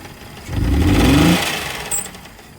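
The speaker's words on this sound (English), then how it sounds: "you can hear the knock going in on the engine" A car engine with an internal knock runs rough at idle, its low rumble swelling briefly as if revved, with a faint rhythmic tapping underneath.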